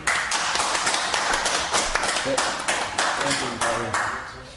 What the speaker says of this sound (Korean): 박수로 맞겠습니다.